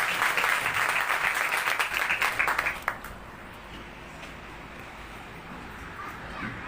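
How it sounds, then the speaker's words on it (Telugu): Audience applause at a church dedication worship service, a dense steady clapping that fills the first three seconds and then stops abruptly, leaving a quiet room hum. "చప్పట్లు కొడుతూనే ఉన్నారు"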